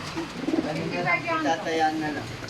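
Pigeons coo softly in a loft under a person talking, the low repeated coos blending with the voice.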